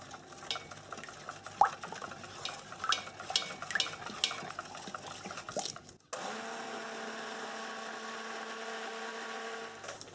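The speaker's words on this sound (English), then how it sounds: "we're just going to bring this now to a light to medium trace using the stick blender" Stirring and scraping of goat milk soap batter gives way to a stick blender switching on, a steady high whirring drone that runs continuously for the last four seconds.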